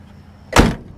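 A single solid car door thud from a 1996 Ford Taurus station wagon, short and close, against a quiet background.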